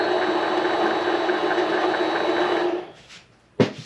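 Metal lathe cutting a chamfer on metal stock in a home shop setup with an ER40 collet chuck: a steady loud machining whir with a faint high tone that runs, then stops near the end, followed by a short sharp knock.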